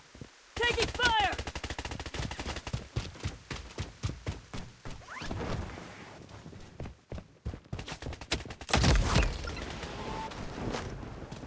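Gunfire in the Blood Strike battle royale, with rapid bursts of close shots, rattling automatic volleys and a louder barrage later, all without speech.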